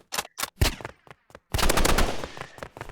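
Rapid pistol shots in a video game, a quick irregular string of sharp bangs followed by a longer, denser burst of continuous firing, loud and close with no talk.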